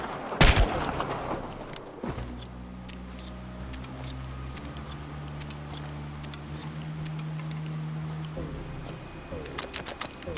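Gunfire rings out in the video game Chernobylite: a sharp close shot, then scattered distant cracks and bursts over a low droning game ambience, with several short clicks and impacts near the end.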